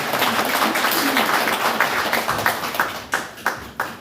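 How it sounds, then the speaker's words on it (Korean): Attendees at a provincial political party meeting give a round of applause. The clapping is dense at first, then thins toward the end into a few sharp, separate claps. "여러분 박수 부탁드립니다."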